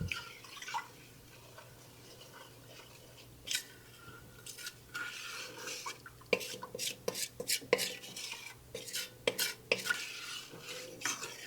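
Sliced cucumbers and onions tumbling and being stirred into a pot of pickling liquid for bread and butter pickles, a run of close wet clatters and scrapes that grow busier toward the end, with no talking.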